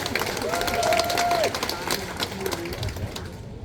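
An audience at a neighborhood residents' general assembly cheers and claps, a dense wash of applause and shouts that holds steady for several seconds, with a voice calling out over it.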